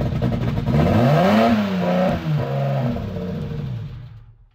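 BMW E36 325i turbo engine revving after a restart, a loud close rising and falling whine-like roar with a clattery edge, holding for a few seconds before easing off and fading out.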